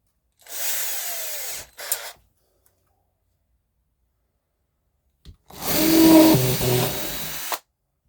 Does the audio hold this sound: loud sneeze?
no